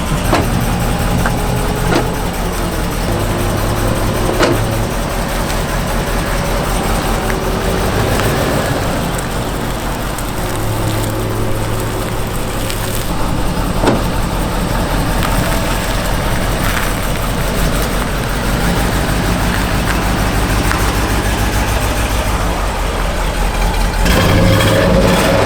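High-mileage truck engine with 340,000 miles and a misfire, running steadily at idle for a long stretch, its low rumble uneven and loud throughout.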